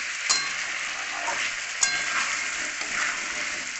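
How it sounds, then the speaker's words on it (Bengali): Spice masala sautéing in oil for Bengali aloo dum: a steady close sizzle of frying with a few soft stirring scrapes and clicks, alone with no voices. "মশলাটা কষাচ্ছি, কষানো হয়ে গেছে, আর একটু তেল ছেড়ে দিয়েছে মশলা থেকে"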